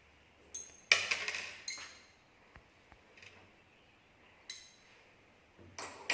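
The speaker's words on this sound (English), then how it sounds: "we have to add some 2 to 3 pieces of zinc granules in it" Two or three zinc granules dropped with a spatula into a glass container in a school chemistry activity, producing a few sharp, bright clinks with short rattling tails, separated by quiet gaps.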